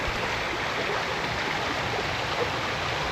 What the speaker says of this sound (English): Oh wow, this is the Tough River